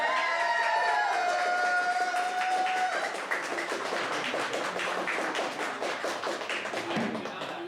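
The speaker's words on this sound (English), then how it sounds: "So please give a huge round of applause." An audience at a poetry slam applauds a poet taking the stage, a dense sustained clapping from a room full of people that follows a fading tone and holds steady to the end.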